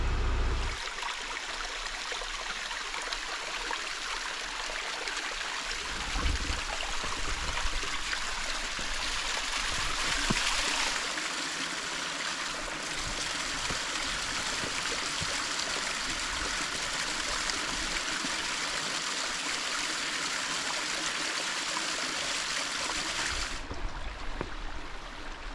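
Shallow forest stream in the Ouachita National Forest trickling and gurgling over rocks, a steady close wash of water running throughout with no voices.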